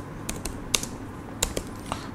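Typing on a computer keyboard while writing code: a handful of crisp, irregular key clicks, a few noticeably sharper than the rest, over a quiet room.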